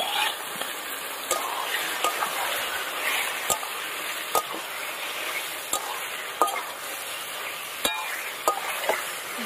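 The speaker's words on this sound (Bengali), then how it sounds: "দিয়ে এবার সবকিছু দিয়ে মাংসটাকে একটু ভেজে নিতে হবে।" Marinated chicken sizzles in a pan with fried onion, ginger, garlic and tomato, a steady close frying hiss broken by sharp clinks and scrapes of stirring.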